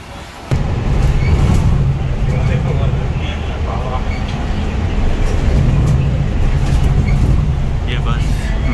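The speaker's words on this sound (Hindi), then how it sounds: "ये बस मेट्रो तक ड्रॉप करेगी।" A city bus in Singapore rumbles steadily toward an MRT station, its low engine drone and road noise filling the cabin, close and continuous, with some clatter and faint voices underneath.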